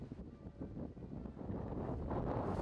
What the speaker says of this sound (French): Le vent est très fort.